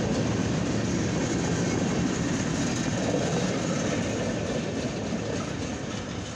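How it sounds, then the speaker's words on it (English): A westbound CFE mixed freight, grain and rail train rolls past a railroad crossing in rainy late afternoon, a loud, steady rumble with metallic rattling of cars that eases slightly toward the end. "This has been a CFE mixed freight grain and rail train."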